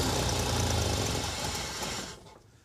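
A vintage International Harvester engine that sat unused for 21 years rumbles roughly as it is cranked, then cuts out and fades near the end, loud and close.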